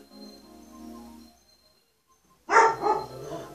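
Dogs bark indoors in a sudden loud burst of a couple of sharp yips and barks after a quiet stretch, preceded by faint low background sound.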